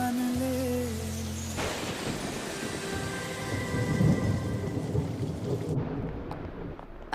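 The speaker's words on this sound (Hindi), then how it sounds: "नहीं तो ये बिन मौसम बरसात में सारे कपड़े भीग जाते" Heavy unseasonal rain pours down steadily through a thunderstorm, with deep rolling thunder building in the middle, after music fades at the start.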